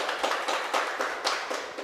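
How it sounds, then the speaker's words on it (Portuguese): Church congregation applauding after a prayer, a steady burst of many hands clapping in a quick, dense rhythm, close and fairly loud, with no voices over it. "pode aplaudir, fica à vontade, irmão"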